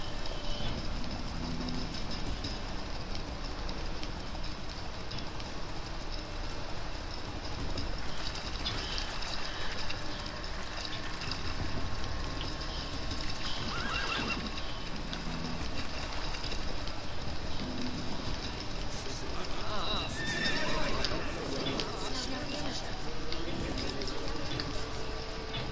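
Roach the horse gallops across open ground in The Witcher 3, a steady run of soft hoofbeats over a low, even bed of ambient game sound, with no clear whinny standing out.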